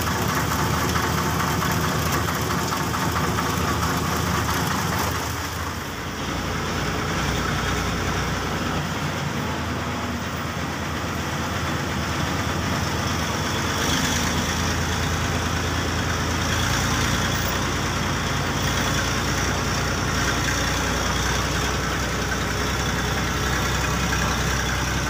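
A motor grader's diesel engine runs steadily at a detour roadwork site, a continuous rough rumble with some knocking texture that holds throughout, dipping briefly around the middle before resuming.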